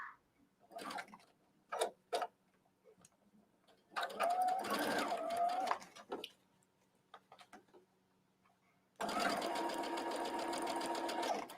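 Sewing machine stitching in short bursts, then longer steady runs, with soft handling noises and quiet pauses between.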